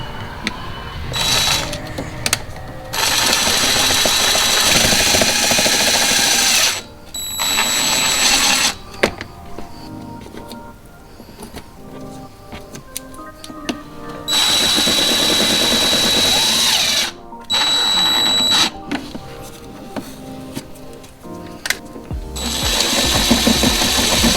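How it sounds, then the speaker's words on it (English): A power driver runs screws into BMW mud flaps, with a screw held in place by tape, in several loud bursts of whirring separated by short pauses and quieter handling noises. "I have to use a tape to hold the screw while I'm driving the screw on the mud flaps."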